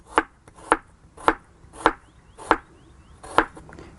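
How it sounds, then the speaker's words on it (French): A knife chops fresh turmeric into small pieces on a board: six or seven crisp, evenly spaced cuts, close and clear, with no talking. "Je prends du curcuma. Je le coupe en petits bouts, comme ça, il sera très rapide à mixer."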